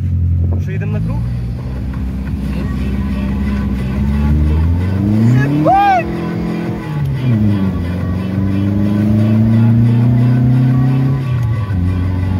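A VAZ 2107 engine revs hard and climbs through a drifting lap, loud and close, with a sharp tire-squeal burst around the middle and voices talking over it.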